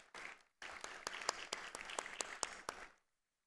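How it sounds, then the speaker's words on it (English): Audience applause welcoming a panelist on stage at the ATM opening session on international travel: a dense, steady burst of many hands clapping for about two and a half seconds after a brief opening clap, then stopping abruptly. "A round of applause, please."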